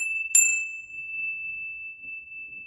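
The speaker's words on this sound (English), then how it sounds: "Got my space clearing bell." A space clearing bell is struck once, giving a bright metallic ding that rings on as a long, steady, clear tone, with a quiet voice faintly underneath.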